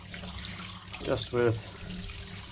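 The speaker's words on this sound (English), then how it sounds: "I'm just going to wash it off with a warm water." Warm water runs from a tap to rinse a cleaner-coated carbon-deposited part, a steady wash under the speaker's voice that swells briefly near the middle.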